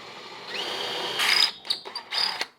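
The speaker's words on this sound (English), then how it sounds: "I'm going to use a slightly larger drill bit than I need just so it fits easily" A power drill whirs steadily, then revs in short bursts with brief pauses between, close and fairly loud.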